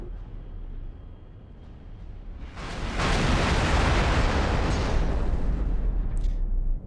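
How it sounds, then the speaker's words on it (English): A spacecraft explodes in the space game X4: Foundations with a loud, rumbling boom that swells and holds for several seconds before fading, set against low ambient game noise. "Explosion imminent."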